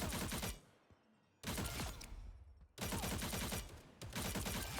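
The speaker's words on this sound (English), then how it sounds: "I'm shooting when I'm not supposed to be shooting" Rapid automatic gunfire from the Marvel Rivals shooter game rattles in three loud sustained bursts, separated by short quieter gaps.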